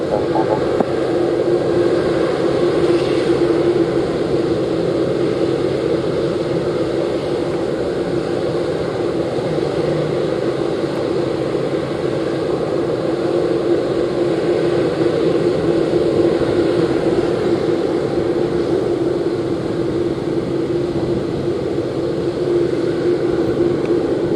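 An airliner taking off from runway 07, a loud, steady engine roar with a humming drone that holds unbroken throughout, no talk.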